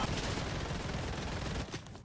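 Charge SMG gunfire in the Fortnite video game, a dense continuous burst of rapid shots that runs loud for about two seconds before easing slightly at the end.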